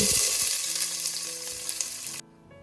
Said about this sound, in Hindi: पैन में लिया हमने तकरीबन 3 बड़े चम्मच ऑयल के और इसमें हमने कर लिया प्याज को अच्छे से ब्राउन